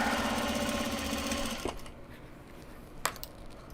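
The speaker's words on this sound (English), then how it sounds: "Totally moved the mic away from the sewing machine so you don't have to listen to it constantly" A sewing machine stitching Japanese fabric bags whirs in a steady fast rhythm for about a second and a half, then stops, leaving quiet room noise with a couple of sharp clicks.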